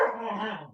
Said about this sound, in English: the dog's fighting.